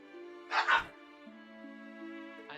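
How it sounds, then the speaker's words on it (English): Short burst of dog barking from the video game Final Fantasy IV, a quick pair of yaps over a steady chiptune-style musical tone, fairly close and clear with no talking. "I'm gonna kill these dogs."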